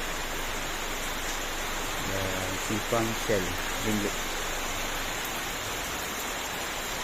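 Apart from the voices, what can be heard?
rain falling at a hilltop mosque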